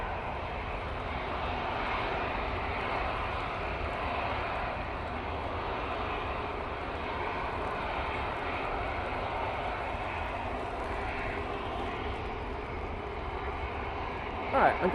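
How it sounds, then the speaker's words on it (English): An EasyJet A320neo departing Manchester Airport in windy weather, a sustained broad jet roar that stays fairly even and moderately distant for the whole stretch, with a brief bump of noise at the end. "So, EasyJet A320neo going off to Tenerife."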